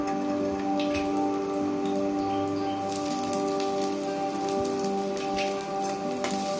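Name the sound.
ginger and garlic sizzling while frying in oil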